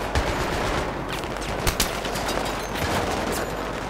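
In the shooter game Battlefield 3, .50 caliber machine guns fire, a loud, continuous rattle of rapid shots that carries on without a break, with a few sharper bursts standing out.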